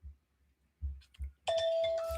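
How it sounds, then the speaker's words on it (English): A phone alarm chime goes off indoors, a bright sustained electronic ding-dong tone following a few soft knocks and bumps, moderately quiet and close. "that's my alarm I always put on just in case I don't forget this live stream"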